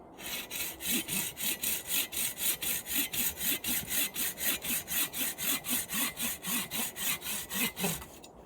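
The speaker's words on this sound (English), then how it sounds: "how this saw sounds while you're sawing wood" A hand saw cuts through wood in a steady back-and-forth rhythm, about two dozen rasping strokes, close and clear with no voices.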